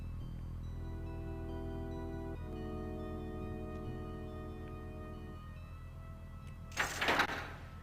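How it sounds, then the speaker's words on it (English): A door in the game Stonekeep is unlocked and opened: after a steady ambient drone with tonal hum, a short, loud creaking scrape near the end. No voices. "now we can unlock one of the two doors that have a lock up here"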